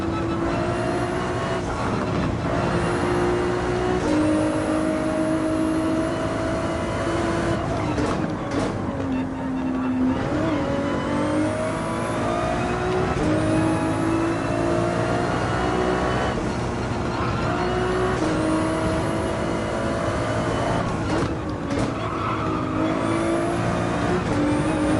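A race car engine in Gran Turismo 7 during a Highway 1 time attack revs hard and continuously, climbing in pitch through the gears with quick drops at each shift, loud and steady throughout.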